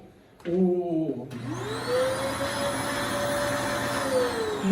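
A vacuum cleaner is switched on close by in a workshop with a CNC router. After a brief low hum, its motor whine climbs for about a second, then holds as a loud, steady drone.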